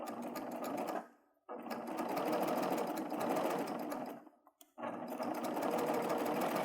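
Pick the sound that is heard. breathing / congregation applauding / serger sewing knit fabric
serger sewing knit fabric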